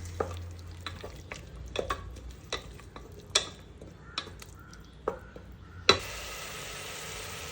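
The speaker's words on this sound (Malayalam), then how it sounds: "ഇനി ഇതെല്ലാം കൂടെ നന്നായിട്ടൊന്ന് മിക്സ് ചെയ്ത് എടുത്തിട്ട് ഒരു പത്ത് മിനിറ്റ് നമുക്ക് കുക്ക് ചെയ്തെടുക്കാം" A spoon scrapes and taps around a pan of tomato and curd masala for tomato biryani in irregular strokes over a soft sizzle, ending in a louder clatter and a burst of hissing.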